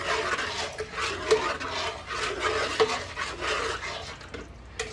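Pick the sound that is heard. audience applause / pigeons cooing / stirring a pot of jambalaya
stirring a pot of jambalaya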